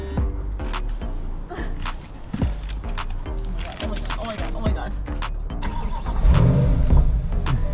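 A brand-new car with about a dozen miles on it idles with its engine running, and the idle swells into a louder rev near the end. Brief clicks and knocks are heard, and excited voices are audible in the background.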